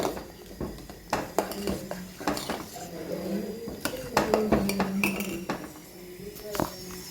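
Sabudana and milk stirred together in a pot, with a spoon scraping and clinking against the metal in irregular knocks, close by, with a voice talking over it.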